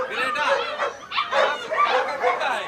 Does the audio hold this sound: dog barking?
yes